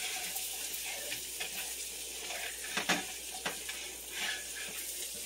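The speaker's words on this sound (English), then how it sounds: "Now I'm going to go ahead and throw my flour in and give this another good mix." Flour goes into a bubbling chicken stew in a pot, with a soft steady sizzle and a few louder spoon scrapes and knocks as it is mixed, no one speaking.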